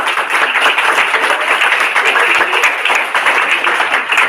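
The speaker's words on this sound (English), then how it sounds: "The clap says everything." An audience at the Frameology International Student Film Festival at Techno India University claps in steady, loud, continuous applause that fills the hall for several seconds.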